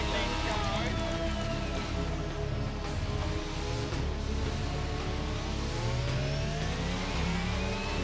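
F1 car engine on a qualifying lap at Monza in the F1 22 video game, a loud continuous high-pitched roar rising and falling through gear changes across the whole stretch.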